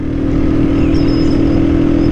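A Honda Titan motorcycle fitted with a Fortuna estralador exhaust holds a loud, steady low engine rumble close by on a drizzly day, with no voices over it.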